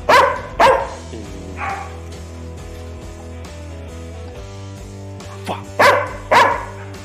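A dog barks on command during training, several short bursts, two quick barks then a pause, then more barks, loud and close over a low steady hum.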